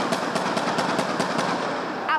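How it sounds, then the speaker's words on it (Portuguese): Rapid bursts of automatic gunfire during a police operation against a drug gang in a city's North Zone, a steady series of loud, evenly spaced shots over a noisy background with a voice talking over them. "Tiro para todos os lados."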